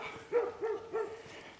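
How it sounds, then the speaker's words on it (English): Great Pyrenees guarding sheep barks three times in quick succession, moderately distant and fairly loud, with no talking over it. "Sorry for that damn dog barking over there."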